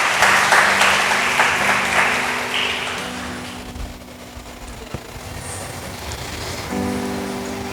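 A church congregation claps in praise, a fairly close burst of applause over a sustained organ or keyboard tone that thins and fades toward the end as the music continues.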